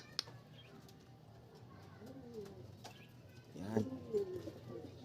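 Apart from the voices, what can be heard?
racing pigeons returning to the loft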